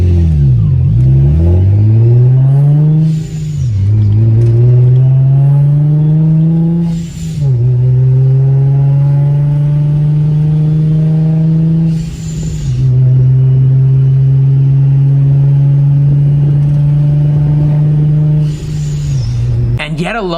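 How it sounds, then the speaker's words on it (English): A car driven normally, its exhaust drone and a whistle from the front rising and falling as it accelerates and shifts, loud and close for the whole stretch, with a voice talking over parts of it. "Here's a little clip of just normal driving."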